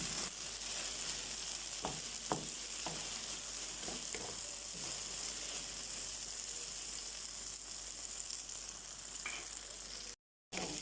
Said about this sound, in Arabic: دلوقتي الباميه بدات تستوي معايا، خدت لون اهو